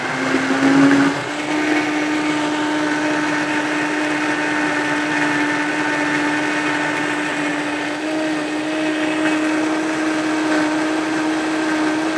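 A blender whirs steadily while mixing a sauce, a loud, close motor drone holding one pitch throughout after a brief shift at the start, with no talking.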